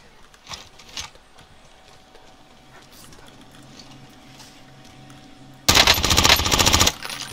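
Rapid automatic gunfire from a weapon in the Warzone battle royale video game, with a few scattered shots early on, then a loud sustained burst near the end.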